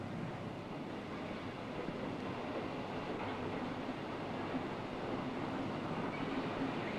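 Steady rumbling of steel-carrying wagons of an erecting train rolling along rails, a continuous broadband roar with no voices.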